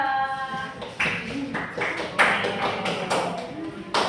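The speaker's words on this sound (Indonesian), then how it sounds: "Tepuk tangan buat kelompok 2." Classroom applause for a student group at an elementary school, heard as scattered, uneven claps and taps from children with loud bursts and light voices mixed in.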